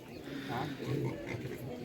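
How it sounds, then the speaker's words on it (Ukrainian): Pigs grunting and snuffling close by, mixed with people talking over them. "Це гарні свинки"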